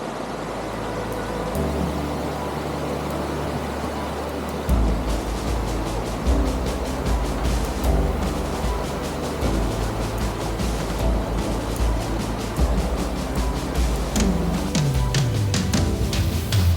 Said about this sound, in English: This is my favorite waterfall here.